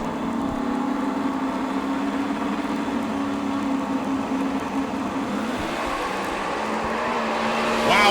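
An X275 Camaro drag race car making a run at a drag strip meet, its engine a steady, loud, sustained roar heard from a distance, swelling slightly toward the end.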